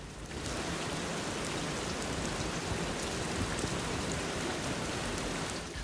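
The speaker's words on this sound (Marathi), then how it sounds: "उदार आल्या पागोळ्या अंगणी आल्या पागोळ्या अंगणी असा तो नजारा होता" Heavy monsoon rain pours steadily off roof eaves into a village courtyard on a trek near Pune, a dense, continuous hiss and patter close by with no voices.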